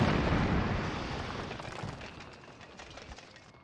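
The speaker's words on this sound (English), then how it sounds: "Those fireworks?" Fireworks explosions in the 1975 film Monty Python and the Holy Grail, a loud rumbling burst at the start that crackles and fades over several seconds, with no talking.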